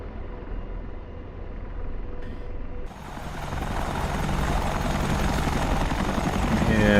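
Helicopter rotors in the DCS flight simulator over Afghanistan, with a Chinook nearby: a dense, continuous thudding rotor roar that grows louder and fuller after a quieter opening stretch.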